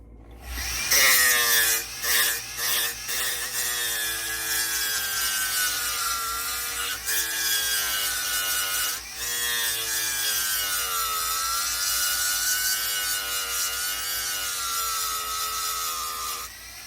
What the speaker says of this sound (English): after I put that super glue on there, I'm just sanding it away so it's smooth